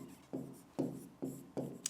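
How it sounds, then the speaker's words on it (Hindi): A marker or chalk writing an example on a board in four quick, evenly spaced rubbing strokes, close and fairly quiet with no voice. "एक उदाहरण लिखते हैं"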